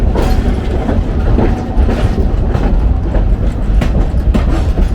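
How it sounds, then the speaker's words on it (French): A railway locomotive passes close at a terminus, a loud, continuous rumble with rhythmic clickety-clack from the wheels and rail joints throughout, and no talk. "On va croiser une belle locomotive."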